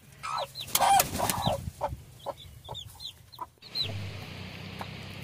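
Hens in a garden coop cluck in irregular bursts of short calls, fairly close, with a few louder squawks and brief quieter pauses between.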